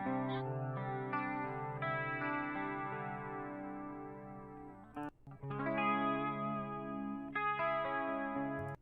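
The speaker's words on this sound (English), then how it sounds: "There's a clean patch in it." A sustained, chorused electric guitar on a Line 6 POD Go clean patch plays clean chords that ring out, with a brief break near the middle before the chords resume.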